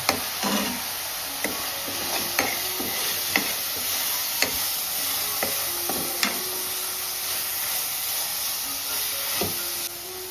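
A spoon scrapes and taps around a pot in an uneven rhythm over a low, continuous sizzle as mutton masala, coriander powder and spices are stirred, with no talking.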